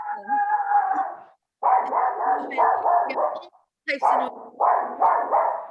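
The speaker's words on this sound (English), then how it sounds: "Someone's dog is barking." A dog barks repeatedly in bursts, loud and close, with short gaps between runs of barks.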